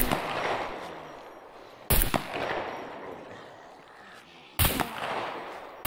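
Gunshots in the survival video game SCUM, two sharp loud single shots a few seconds apart over steady ambient background, no talk.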